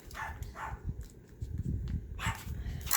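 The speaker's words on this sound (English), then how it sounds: "my dogs are barking at nothing" Several dogs bark indoors in quick bursts, sharp yelps and woofs overlapping, close and loud, with occasional whimpers and rustling between the barks.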